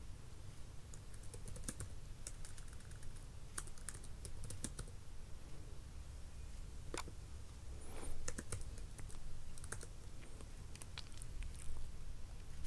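Quiet, irregular keystrokes as code is typed on a computer keyboard, with soft clicks coming in small clusters and pauses against a faint background hum and no speech.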